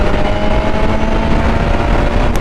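BMW S1000RR sport motorcycle under throttle, a loud continuous engine roar mixed with rushing wind noise, steady and close throughout with no talking.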